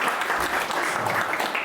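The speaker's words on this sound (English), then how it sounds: "Round of applause for from State College." A comedy club audience at the Blue Brick Theatre in State College bursts into applause during a stand-up show, dense steady clapping with some cheering that fills the room for the whole stretch.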